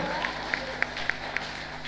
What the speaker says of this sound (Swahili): Makofi mengi kwa Yesu.